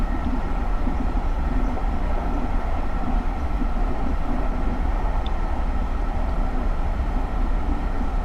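A GE Silverliner IV SEPTA commuter train in Train Simulator runs along the Trenton Line with a steady, loud rumbling drone and wheel noise that holds constant throughout, no voices.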